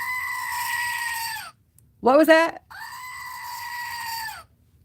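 A goat bleats in two long wavering calls on either side of a short burst of a human voice, all close and loud.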